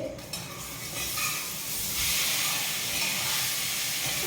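Kozhukattai dough balls dropped into a pan of hot seasoning give a steady loud hiss and sizzle that swells slightly partway through, with no speech over it.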